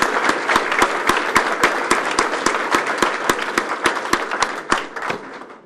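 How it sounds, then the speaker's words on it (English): Audience applause at a police department promotional ceremony: a crowd claps in brisk, sharp rhythmic beats, fairly loud and steady, with no speech over it. "Let's give her a round of applause."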